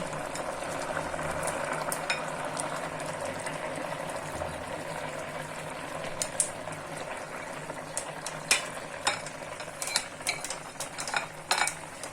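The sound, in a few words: adding silver carp fish to simmering cauliflower potato tomato curry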